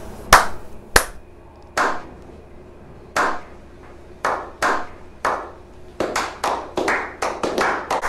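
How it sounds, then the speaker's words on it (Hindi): Hands clapping in a room, a dozen or so sharp separate claps, sparse and uneven at first and then faster and closer together toward the end, with no talk over them. "दस तालियां।"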